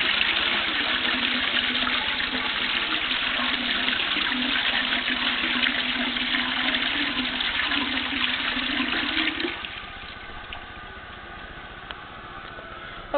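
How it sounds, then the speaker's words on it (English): A residential toilet flushes with a loud rushing gush of water that cuts off abruptly, leaving a quieter trickle and refill hiss. "Let's flush this puppy."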